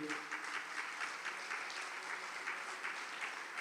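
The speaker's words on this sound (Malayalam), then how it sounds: "ഒന്ന് കൈയുയർത്തി കൈയടിച്ച്." Steady, even applause from an audience at a church retreat centre, a soft, continuous wash of many hands clapping at a moderate distance with no voices over it.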